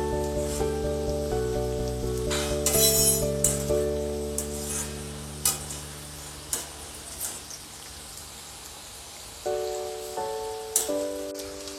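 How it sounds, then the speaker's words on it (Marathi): Potatoes for chilli potato deep-fry in hot oil on a high flame, giving a continuous rain-like crackling sizzle over a quiet tonal background. "हाय फ्लेमवर आपल्याला पहिलेला तळून घ्यायचं आहे"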